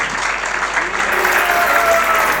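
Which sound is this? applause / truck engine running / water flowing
applause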